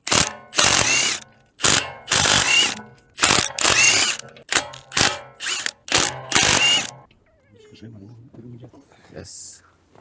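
A ratchet wrench works the front bumper screws loose on a wrecked Audi RS3, sounding in several quick bursts of clicking separated by short pauses, close and loud, followed by quieter handling noise.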